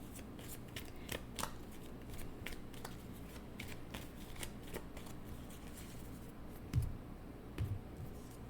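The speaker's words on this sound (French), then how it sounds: "Je vais aller chercher juste une carte." Tarot cards being shuffled by hand, soft repeated riffling and snapping of card edges, close and faint, with a couple of light taps near the end.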